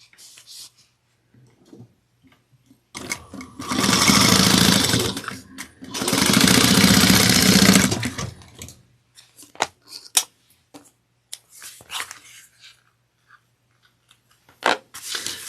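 A sewing machine bastes the lining onto a drawstring satchel at a quarter-inch seam in two close, loud runs of about two seconds each, with light handling clicks before and after.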